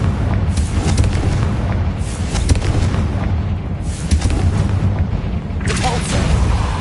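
A Confringo blasting spell in Hogwarts Legacy gameplay sets off repeated loud, rumbling explosive booms, three or four heavy bursts one after another over a dense, continuous roar.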